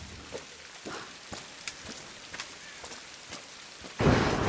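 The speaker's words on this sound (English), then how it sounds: "Take shelter from the storm." Rain and a thunderstorm in the video game Tomb Raider (2013), a steady patter of rain with scattered drop hits, then a loud burst of rushing rain or thunder near the end.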